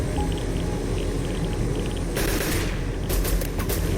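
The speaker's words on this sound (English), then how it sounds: "It has 2 attack types, a machine gun and missiles, both capable of damaging players," In the Rust Legacy game, a helicopter's machine gun fires two short bursts of rapid shots over a steady mechanical drone, the second burst stuttering in quick pulses, with no voices.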